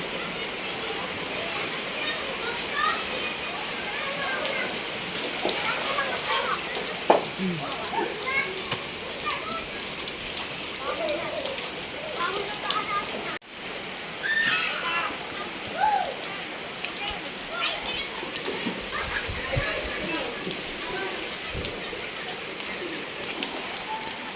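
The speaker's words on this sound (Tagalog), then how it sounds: "pag malakas ang ulan" Steady hiss of heavy rain falling on surfaces in La Paz, Tarlac, continuous and fairly dense, with occasional bird calls faintly in the background.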